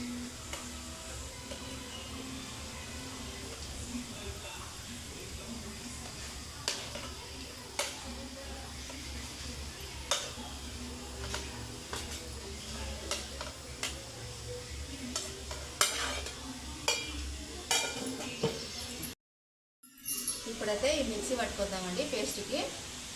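Mutton fry stirred in a pan, a continuous close sizzle with frequent scraping strokes of a spatula, a brief cut of silence near the end, and a voice talking over it at times.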